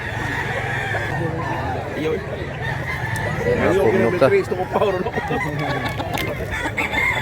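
Roosters and hens at a poultry market cluck and crow, with one loud crow rising midway, while several people talk nearby throughout.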